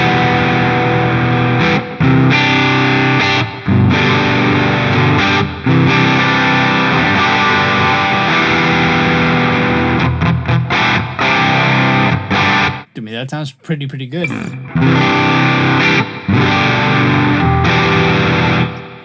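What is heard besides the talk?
electric guitar through AmpliTube 5 amp simulator with high gain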